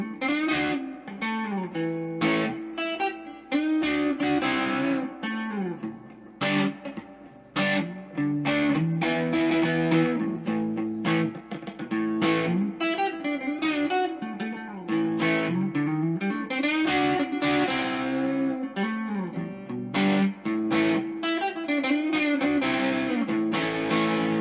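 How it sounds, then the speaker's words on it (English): An electric guitar plays through a Boss DS-2 Turbo Distortion pedal with the distortion set lower, producing crunchy, overdriven chords and riffs in a loud, continuous passage with short pauses between phrases and no voice. "Let's try it with the distortion turned down a little bit."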